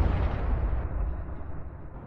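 A shell dropped from a drone explodes near a soldier on a battlefield, a deep low rumbling boom that stays loud and then slowly fades over about two seconds, with no voices.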